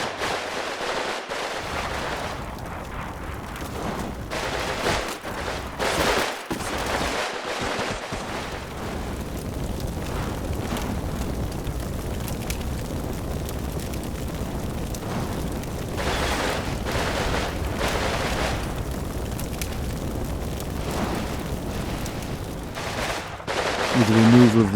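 Submachine gun fire from a platoon making a frontal assault on a metal shop in the wartime strategy game Combat Mission: Stalingrad, heard as a dense, sustained clatter of overlapping bursts and distant booms throughout.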